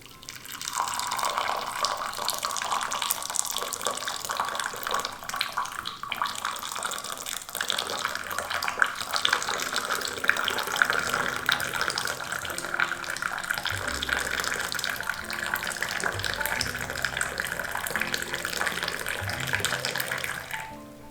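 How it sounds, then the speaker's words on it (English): Moroccan mint tea pours in a steady, unbroken liquid stream for about twenty seconds, a bright, frothy splashing that stays constant and close with no talking. "This is how you pour Moroccan mint tea"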